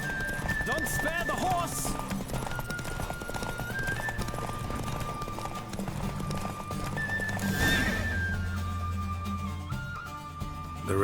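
Horse in a Witcher 3 race galloping with fast steady hoofbeats and letting out a whinny partway through, close and loud over game music, with brief talking.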